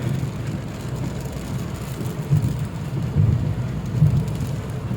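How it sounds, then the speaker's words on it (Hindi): Steady, dense rainfall pours continuously during a car trip on a motorway, with a low rumble underneath, swelling slightly at moments, with no voices. "और ये बारिश ने मज़ीद तेज़ी पकड़ी है।"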